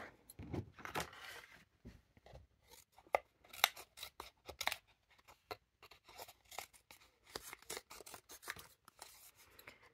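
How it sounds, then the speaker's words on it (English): Snipping of small scissors through paper, a run of quick crisp cuts in irregular bursts with short pauses, close by and fairly quiet. "I've got a pair of little scissors and going to cut them out roughly to begin with"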